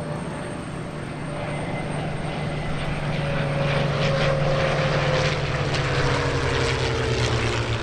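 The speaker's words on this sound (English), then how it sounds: "the Bf-109 was among several aircraft that performed a special night run for visiting photographers" A Bf-109 warbird's propeller engine drones steadily through a night run at an airshow, a loud continuous roar with a sustained low tone that slowly shifts pitch as the fighter passes.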